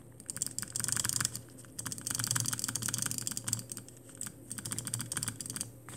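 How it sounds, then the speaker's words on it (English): Rapid jitter clicking on a mouse produces a dense, fast, continuous patter of crisp clicks, close and steady for several seconds with only brief pauses. "if you like this jitter clicking"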